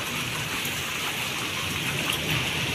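Steady rain falls in a dense, even hiss that stays constant throughout, fairly close and with no voices.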